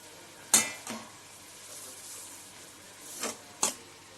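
Poppy seeds tossed into sizzling masala in a pan for Khandesh-style Satpudachya patodya: a faint, steady sizzle broken by a few sharp utensil clinks.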